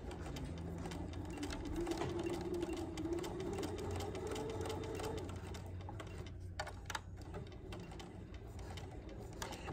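A sewing machine back tacks a side seam, its needle chattering in a fast, steady run that slows and stops partway, heard close but fairly quiet with a few clicks afterward.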